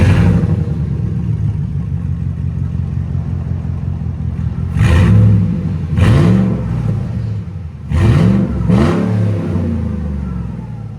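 A car engine with straight pipe exhaust and no muffler idles with a loud, raw rumble, then revs hard in several sharp bursts, each rising and falling back to idle.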